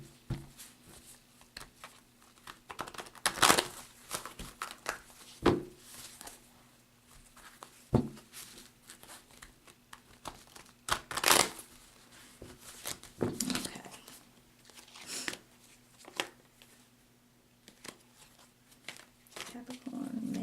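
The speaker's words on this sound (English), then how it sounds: "A couple more shuffles" Tarot cards are shuffled by hand in a quiet room, with soft riffles and flutters breaking out at irregular intervals among light rustles and taps.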